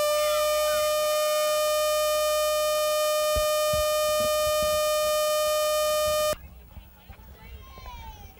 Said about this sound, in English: I just heard an air raid siren through my headset.